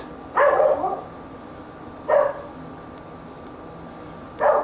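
A dog barks three times at a moderate distance, short separate woofs spaced a couple of seconds apart over a quiet evening outdoor background, with no talking.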